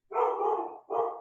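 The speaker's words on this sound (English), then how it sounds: "My dog." A pet dog gives two close, loud barks in quick succession, the first longer and the second short, with nothing else heard.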